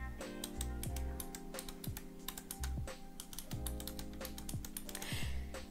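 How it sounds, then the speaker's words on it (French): Rapid typing on a Razer mechanical keyboard, close and crisp, with a dense run of clicky keystrokes and a few heavier thumps, and no one speaking. "Le bruit que font ces touches est trop satisfaisant."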